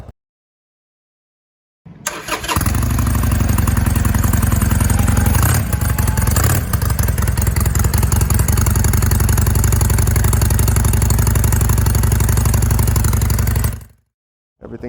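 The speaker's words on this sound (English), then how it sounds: "this Sportster actually has the best sounding stock pipes. It is very, very throaty" Harley-Davidson Sportster 1200 Roadster, a 2020 XL1200CX, starts up through its stock exhaust pipes and settles into a loud, deep, throaty V-twin idle with a few blips, close by and alone, then shuts off.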